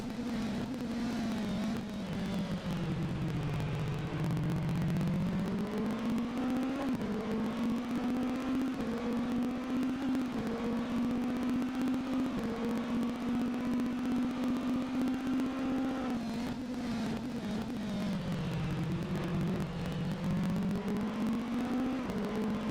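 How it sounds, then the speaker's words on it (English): Onboard an LMP2 prototype race car lapping Sebring, a loud, steady engine note holds close and continuous throughout, its pitch dipping and climbing with braking and acceleration through the corners. "let's go to the onboard camera here and just listen to a little bit more of that absolute orgasmic engine sound"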